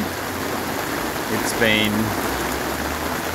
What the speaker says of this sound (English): raining very heavy here in Brisbane pretty much most of the day